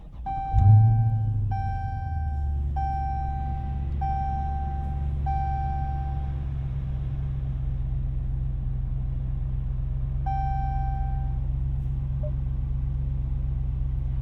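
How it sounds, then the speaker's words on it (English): A 2019 Dodge Challenger T/A 392 V8 fires up with a sharp, loud start-up roar, then settles into a steady rumbling idle while a dashboard chime beeps several times in a regular rhythm. "Let's get this car started."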